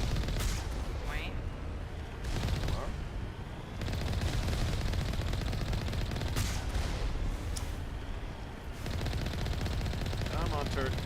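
Bursts of turret machine-gun fire in the game Mass Effect, loud rapid volleys separated by short gaps, with a voice talking over the shooting.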